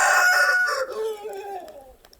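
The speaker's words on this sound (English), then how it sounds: "Living on a farm with a cockerel, that would really do my nut in" A single rooster crows loudly nearby, a long rising and falling cock-a-doodle-doo that trails off into quiet.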